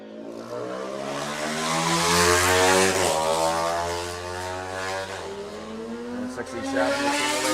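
McLaughlin RS 125 Honda racing motorcycle at the Tandragee 100 road race, passing with a loud, high-revving two-stroke engine whose pitch rises as it nears and falls away, nearly masking a commentator's voice.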